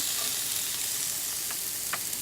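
Marinated quail sizzles on a grill with a steady, close frying hiss and a couple of faint crackles.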